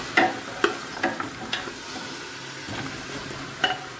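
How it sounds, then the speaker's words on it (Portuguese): Oxtail being stirred and sautéed in a pot, with a soft sizzle of frying beneath several distinct scrapes and knocks of a spoon against the pan, close and moderately loud. "A gente mexe, refoga."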